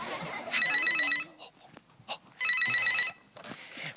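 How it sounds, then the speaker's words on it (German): Telephone ringing at night as a radio play sound effect: two loud electronic trilling bursts separated by a pause, with faint rustling and a brief footstep-like knock between them. "Letzte Woche bekam Tom mitten in der Nacht einen sehr wichtigen Anruf"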